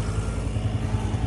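A four-wheeler engine running on a farm, a loud close motor with a steady rhythmic chugging throb.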